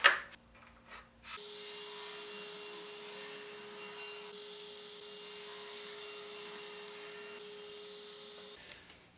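A power tool, likely a saw, cuts pins from maple wood, giving a steady whining hum that runs for about seven seconds after a few brief knocks, close and constant, with no speech.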